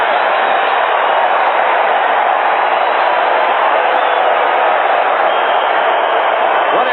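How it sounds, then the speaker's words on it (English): A dense, roaring stadium crowd at a 1980 AFC Wild Card NFL game between the Houston Oilers and Oakland Raiders reacts to a quarterback sack, a loud, sustained wash of cheering that holds steady for several seconds without a break. "Listen to the crowd reaction to Ted Hendricks' sack."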